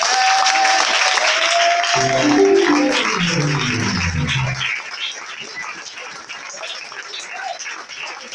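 Church seminar audience in a hall breaking into sustained applause and cheering, steady crowd clapping mixed with voices and a brief low musical tone underneath.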